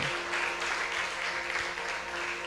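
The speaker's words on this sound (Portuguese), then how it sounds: "Pode aplaudir se quiser, não tem problema não" Congregation clapping in a church after a sermon, a steady wash of applause at moderate level with a faint background hum and no talking.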